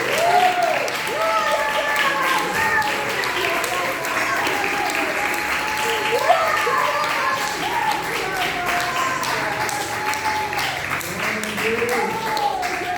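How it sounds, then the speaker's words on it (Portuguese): A church congregation applauds during a sermon, a dense wash of clapping that runs steadily throughout, with a voice and sung or sustained tones carrying over it. "Se aplaude, aplaude."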